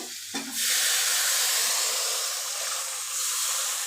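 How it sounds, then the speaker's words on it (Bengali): Water poured into a pan of spiced Bengali masala fried down for a boal fish kalia, with a sudden loud hiss and sizzle that carries on steadily and close by, with no talk. "এবার আমি জল দিয়ে দেব"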